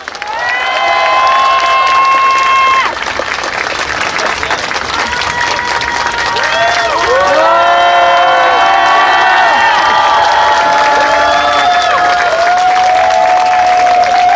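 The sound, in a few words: crowd applause and cheering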